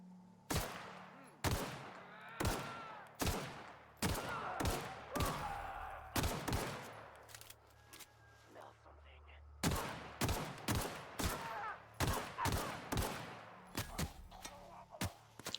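Rapid bursts of gunfire in The Outer Worlds, a space-set video game, sounding as loud sharp shots in irregular clusters with brief gaps between volleys and a low steady hum underneath.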